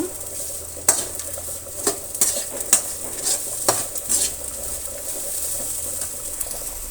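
Leafy greens fry in oil in a pan while being stirred. Soft sizzling runs under a series of scattered metallic scrapes and clinks from the spoon against the pan, close by in a home kitchen.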